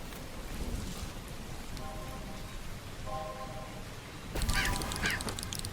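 A crow in a video game gives short harsh honking caws in brief pairs, heard over a steady rain-like background hiss, with a louder burst of calls near the end.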